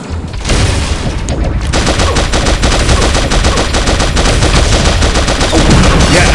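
Minigun from Pixel Gun 3D spraying a nonstop rapid stream of loud shots, dense and unbroken for several seconds after a brief spin-up, with no talking over it.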